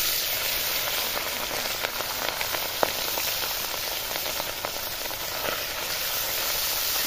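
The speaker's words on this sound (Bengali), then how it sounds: "এবার আমি মাছগুলো দিয়ে দিলাম তেলে।" Tengra fish dropped into hot oil in a wok, a steady soft sizzle with scattered pops and crackles throughout, no voices.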